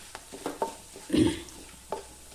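A ground paste of coconut, green chilli, onion and garlic goes into a hot pan and is stirred, with scattered scraping and tapping, one thicker dull thud, and a low sizzle underneath.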